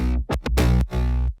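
A layered bass synth bus in FL Studio plays with filter automation, its distorted notes pulsing in a short rhythmic pattern while the brightness sweeps open and closed, loud and without any voice.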